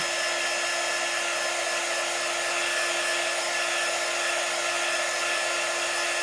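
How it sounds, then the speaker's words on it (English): A Ryobi cordless sander runs in a steady, loud, unbroken whir with a constant motor tone, close by and with no voices over it. "So my sander comes from Home Depot. It's the Ryobi cordless."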